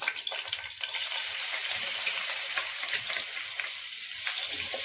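Ginger and garlic frying in a pan for egg biryani, a dense, even sizzle held close and steady, with faint stirring movements underneath.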